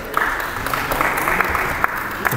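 Steady applause from a modest audience at a presentation night, a light patter of clapping hands with a few louder individual claps standing out.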